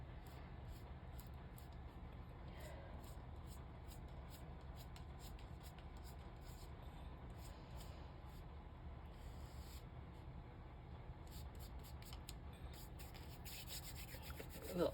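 A hand rubs steadily outward across an acetate sheet to press down a glued bookmark, a faint continuous friction hiss heard up close under a low room hum.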